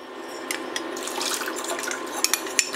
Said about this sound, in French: on vient ici mélanger avec le fouet et on va pouvoir y verser notre mélange